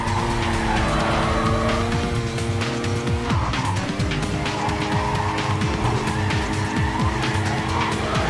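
A car drifts through corners in the racing game Need For Speed Carbon, its engine roaring continuously while tires squeal and skid in long, repeated slides, loud and close throughout.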